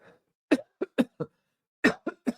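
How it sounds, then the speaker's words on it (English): One person coughs in two short bursts, a few sharp, close coughs in each, with a soft breath before them and a short gap between the bursts. "Got the cough now, got the sore throat."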